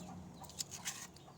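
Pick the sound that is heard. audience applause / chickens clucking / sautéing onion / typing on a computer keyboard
chickens clucking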